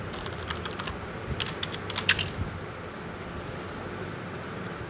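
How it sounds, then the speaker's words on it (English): Keys tapped on a computer keyboard while a journal entry is typed into accounting software, a quick run of light clicks in the first two and a half seconds, then quieter, close and alone under steady room hiss. "Okay, so type it here."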